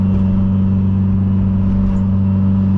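Loud Subaru engine running with the exhaust dump open, a heavy, steady low rumble with a strong droning tone, heard close from inside the car.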